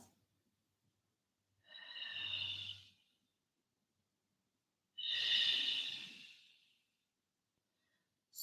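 Slow, deep breaths taken during a vinyasa yoga flow, two long airy exhalations a few seconds apart, close and soft with silence between them.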